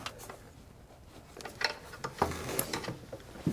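Nuts on a rear engine bracket of a Toyota RAV4 V6 are tightened with short, quiet metallic clicks and ratchet-like ticks, scattered irregularly and close by.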